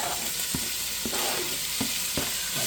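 Bacon strips frying in heated oil over medium heat, a steady broadband sizzle with several sharp clinks and scrapes of a utensil against the pan at irregular intervals.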